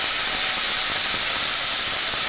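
Bitter gourd (karela) fry being stirred in a pan, heard as a steady, loud, bright hiss of sizzling oil that holds evenly throughout, with no voices.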